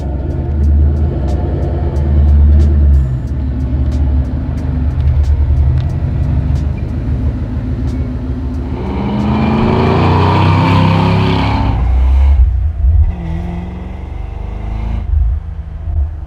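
A 1965 Ford Mustang engine runs with a loud steady rumble, then revs up sharply and rises in pitch before easing off. The sound is close and there is no speech.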